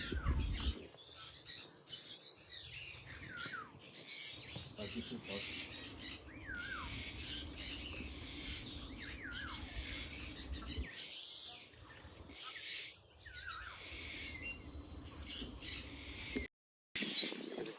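Assorted calls from pheasants and peafowl in an aviary, with repeated sharp chirps and squawks rising over a steady low hum, some loud and close, others farther off.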